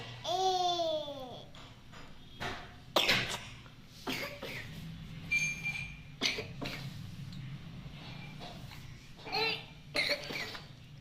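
A child coughs a few times between bouts of babbling and quiet adult talk, the coughs short and close.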